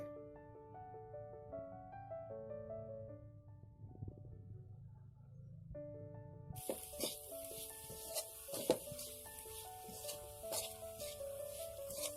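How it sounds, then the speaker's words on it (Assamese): Grated coconut fries in ghee in a pan over a low flame, giving a soft, steady sizzle that starts partway through and stays quiet under louder instrumental music. "আপোনালোকে এনেদৰে কম জুইত 2 পৰা 3 মিনিটমান ভাজি থাকিব।"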